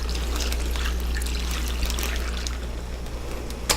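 Hot soup base liquid is poured from a container over food, making a steady close trickle and splash that runs for a few seconds under a low background hum.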